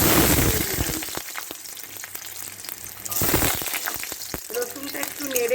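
Garlic sizzling in hot oil in a wok, loud crackling frying with stirring scrapes, the sizzle surging in bursts as ingredients hit the oil.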